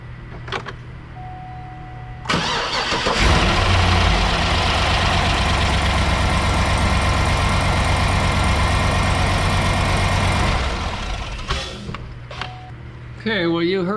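1967 Chevelle fitted with an LS 6.2 V8 cranks and fires up, then holds a loud, steady idle with lifter clatter for several seconds before cutting off.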